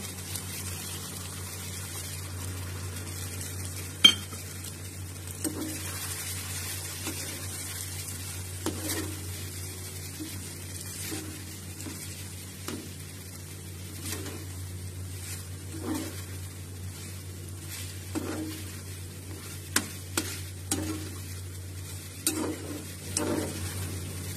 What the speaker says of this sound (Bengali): এভাবে সব দিয়ে নাড়াচাড়া করে এতে একটু আমি কর্নফ্লাওয়ারের গোলা দিয়ে দেব।